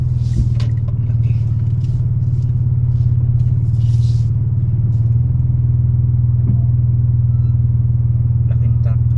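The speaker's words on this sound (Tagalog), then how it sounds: "Laking truck." A large truck rumbles past with a steady, loud low engine drone and some clatter, close by, while people talk over it.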